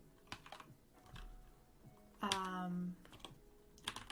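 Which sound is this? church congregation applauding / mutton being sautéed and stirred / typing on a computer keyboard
typing on a computer keyboard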